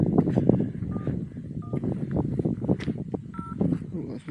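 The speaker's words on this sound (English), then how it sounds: "that's my phone going in my pocket, emergency calls" A mobile phone emergency alert sounds from inside a pocket on a hillside hike from Hayfield to Edale near Kinder Scout: short, muffled electronic tones repeat several times beneath continuous talking and heavy wind or footstep noise.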